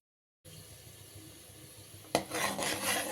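A ladle stirs sugar as it browns in a pan for wheat halwa. Soft, steady rasping gives way to louder, rougher scraping against the metal, close and with no voices.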